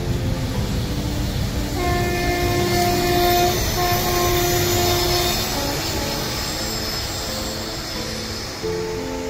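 An Indian Railways train passes close by near Palasdari village, a loud continuous rumble of wheels and cars with sustained tonal, horn-like notes rising through the middle and fading slightly toward the end.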